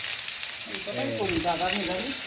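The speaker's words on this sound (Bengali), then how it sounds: "এই পটল ভাজা ভাজা কিন্তু শুরু হয়ে গেছে" Pointed gourd (potol) pieces frying in hot oil, giving a steady close sizzle throughout, with a voice talking over it.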